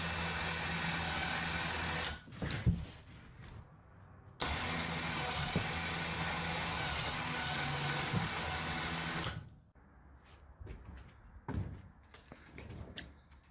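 A winch hauls a 1963 Impala SS convertible body up into an enclosed trailer, droning steadily for several seconds at a time with pauses, then giving way to clanks and knocks near the end.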